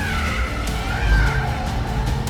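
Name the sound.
Maserati GranTurismo Folgore electric car skidding on racetrack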